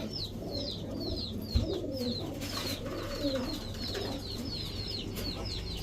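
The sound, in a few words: crested pigeons cooing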